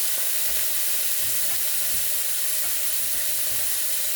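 A mixture hits a hot pan in a home kitchen and sizzles hard, a loud, continuous hissing fry with faint stirring knocks underneath, and nothing else heard.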